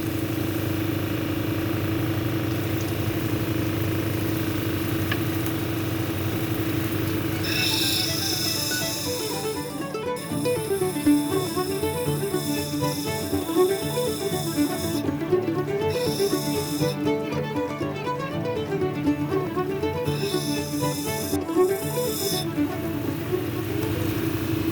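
A lapis lazuli cabochon is ground on a 220 grit wheel, a continuous whirring hum with a rough, pulsing scrape that grows busier partway through and carries on steadily throughout.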